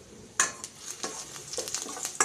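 Crushed garlic and cumin seeds sizzle in hot oil in a kadhai, with a steady close frying hiss broken by several sharp scraping strokes of a spoon stirring the pan.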